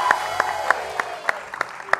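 Hand clapping for Wendy on an Indonesian talk show: about eight sharp, separate claps in an uneven rhythm, with soft talk and background sound between them.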